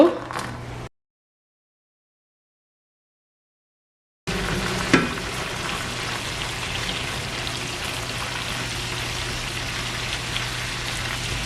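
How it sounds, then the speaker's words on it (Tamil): Cashew nuts and raisins frying in butter for rava kesari, a soft steady sizzle and crackle close by after a short silent gap, with a brief clink. "இப்போ ஒன்றரை நிமிஷமாக பொரிஞ்சோன்னு இருக்குது இன்னும் லைட்லியாக பொரியணும்"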